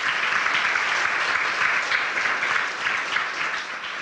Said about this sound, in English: Please give a round of applause for Sean.